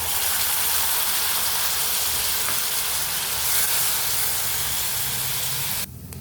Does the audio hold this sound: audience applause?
no